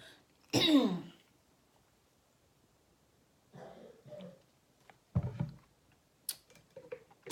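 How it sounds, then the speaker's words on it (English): A child's sharp, close cough from a cold, followed by a few quieter coughs and throat clearing, separated by near silence. "Excuse me if you hear coughing."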